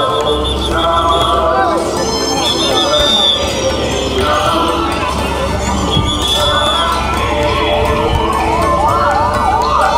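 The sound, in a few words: ambulance siren during Puri Ratha Yatra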